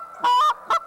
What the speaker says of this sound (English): Now, your clucks, throw your clucks back there.